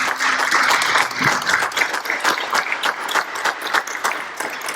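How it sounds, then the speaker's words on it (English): A crowd at a school board candidate forum applauds the candidates, dense steady clapping from many hands held at a loud, even level throughout, with no talking. "I'd like to give our candidates a round of applause."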